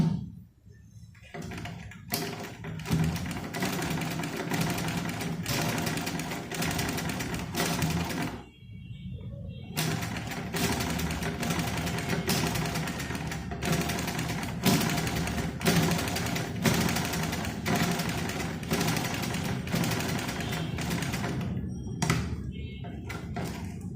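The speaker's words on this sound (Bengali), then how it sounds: "এখন আমরা আরেকবার সেলাই করে এটা দেখব এখন কি অবস্থা" A sewing machine stitching cloth runs in long, steady, rapid runs of mechanical clatter, close and fairly loud, stopping briefly a few times before starting again, while someone talks over it.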